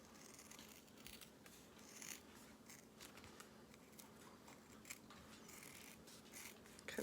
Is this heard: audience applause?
no